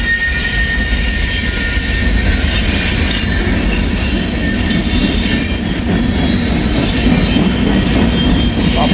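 A freight train rolls past with an old box car, its wheels squealing against the rails over a steady, loud rumble that fills the whole stretch without a break.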